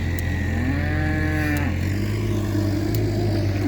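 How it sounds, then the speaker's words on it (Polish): A cow on a farm gives a single loud, drawn-out moo that rises and falls close by, over a steady low background hum. "Krowa poszła jeść marchewki."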